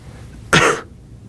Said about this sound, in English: I cough into my hand